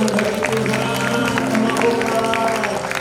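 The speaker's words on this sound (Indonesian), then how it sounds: "Tepuk tangan bagi Tuhan" Church congregation at a senior community service applauding together, a sustained wash of many hands clapping with a voice and music-like tones underneath, fairly loud and continuous.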